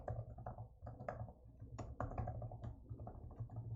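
Fingers type on a computer keyboard in a lab setting, quiet irregular clicks in short bursts and single taps, close and alone.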